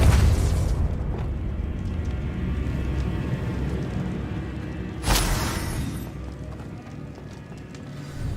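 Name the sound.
spell explosions in the video game Hogwarts Legacy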